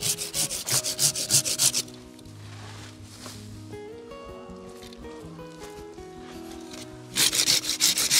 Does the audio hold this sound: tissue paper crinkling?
no